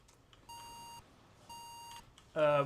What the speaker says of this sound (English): Where is the fire alarm thing?